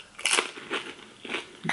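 Chunky, crunchy guacamole chewed close to the microphone, four or five soft crisp crunching bites in an irregular rhythm, quiet and alone.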